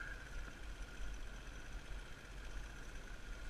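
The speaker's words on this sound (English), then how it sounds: "The little 200 just can't quite make it up that hill." A small 200cc motorbike engine labours up a hill, giving a steady, strained drone that holds at an even level throughout with no voices.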